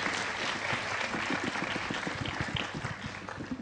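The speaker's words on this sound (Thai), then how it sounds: "ขอเสียงปรบมือให้กับท่านวิทยากรและผู้ดำเนินการอภิปรายในวันนี้ค่ะ" Audience at a Thai listed companies association discussion on private-sector overseas investment claps for the speakers and moderator, dense sustained applause filling the room evenly from start to finish.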